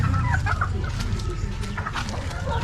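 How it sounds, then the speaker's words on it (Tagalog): Chickens in a poultry pen clucking and calling in quick overlapping bursts, close and busy against a rumbling background. "So tignan muna natin yung ating mga pasisiw."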